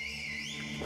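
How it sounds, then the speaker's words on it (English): A faint, sustained whistle signal in a tense scene from The Last of Us, a thin gliding tone that rises and dips slightly over under a second, heard at low level against quiet background. "Now what does that whistle mean?"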